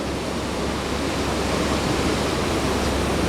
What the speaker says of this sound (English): Kind of a bend in the river here.